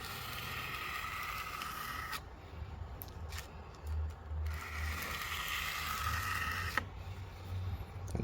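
Steel knife blade dragged in single-direction strokes across sandpaper while reshaping a Kunwu S-Tao into a wharncliffe, giving soft broadband scraping passes with short pauses between strokes, close and fairly quiet.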